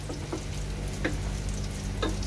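Raisins fry in hot ghee for ghee rice with a steady soft sizzle, broken by a few light clicks of stirring, quiet and close.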